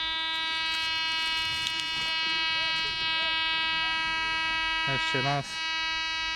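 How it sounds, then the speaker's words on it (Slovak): An MD 350 metal detector gives off a steady electronic buzzing tone, then a short warbling beep near the end. A voice speaks a brief phrase over it. "Keď sa nájde kov, tedy by to malo pípať"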